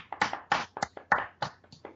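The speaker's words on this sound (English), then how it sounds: "let's clap for Comerson right now" Clapping for a performer during a SeaWorld show: about a dozen sharp, close claps in an uneven rhythm, loud and distinct, with no talking over them.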